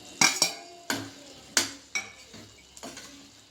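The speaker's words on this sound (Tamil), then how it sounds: "இப்போ நம்ம பொரிச்சு வச்ச பன்னீரை அதில் சேர்த்துடலாம்" Fried paneer pieces go into a pan of gravy with a series of sharp metallic clinks and scrapes of a spoon against the pan, about six distinct knocks spaced irregularly and fading toward the end.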